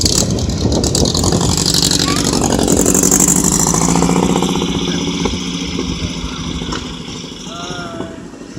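Engine running at a car show, a steady mid-pitched rumble with some revving that stays loud throughout, while people chat nearby over it.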